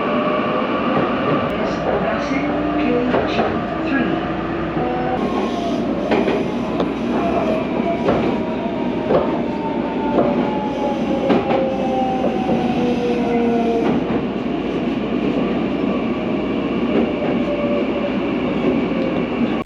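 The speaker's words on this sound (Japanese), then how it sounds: "こちらの電車に乗車したいと思います。" A Meitetsu train runs with a continuous rumble and rhythmic wheel clicks over rail joints, heard from inside the car, with rising and falling motor whine and a brief squeal of wheels.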